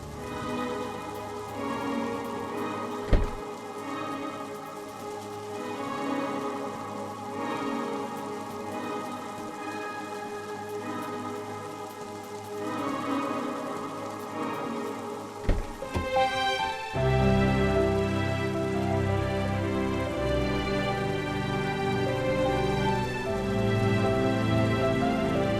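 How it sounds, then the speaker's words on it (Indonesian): Rain falls steadily outside, a constant hiss of drops on surfaces that carries on evenly throughout, with one sharp knock early on and another partway through. "ini di luar hujan loh"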